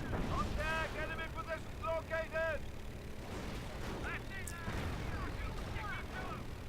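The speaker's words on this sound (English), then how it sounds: "both sides are taking a lot of damage, especially from all these mortars" Mortar fire in a tournament match of a World War II-style multiplayer battle game, with dull booms and rumbling blasts in the background while a commentator talks over them throughout.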